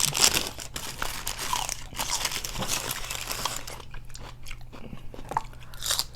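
Crispy fried Buffalo Wild Wings crunch loudly up close in repeated bites and chewing, with crackling crunches spread irregularly across the moment.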